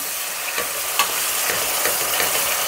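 Green pureed paste hitting a hot pan for egg curry, producing a continuous bright sizzle with faint stirring scrapes and small ticks mixed in.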